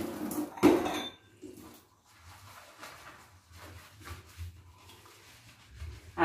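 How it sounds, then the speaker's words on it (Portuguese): Dishes being washed by hand at a home sink, with pots, plates and cutlery clattering and clinking in a brisk, close burst early on, then softer scattered knocks and rinsing scrapes continuing throughout. "E essa louça eu tô lavando com mega empolgação"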